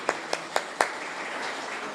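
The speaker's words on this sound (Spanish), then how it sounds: "quiero pedirles que les demos un aplauso, por favor" A few scattered, distinct claps ring out from a church congregation thanking its guests, four sharp hits in under a second before fading into a soft room murmur.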